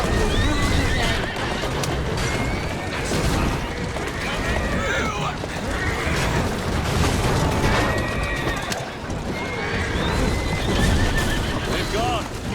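Horse-drawn carriages in Assassin's Creed Syndicate rumble along busy streets with steady clip-clopping hooves, whinnying horses and rattling wheels, a dense continuous din under game dialogue.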